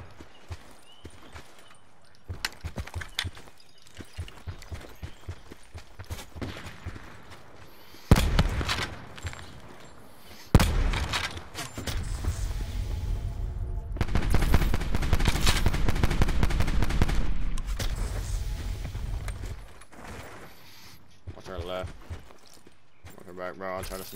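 Gunfire in Call of Duty: Black Ops 4 on PS4 comes in intermittent bursts and single shots, with loud sustained stretches of heavy firing mid-clip amid game noise.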